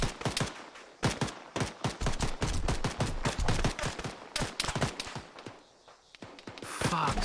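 A 30-round magazine gun fires in the Arma 3 video game in rapid, closely spaced bursts of loud shots that run almost without a break, followed by a short quieter stretch.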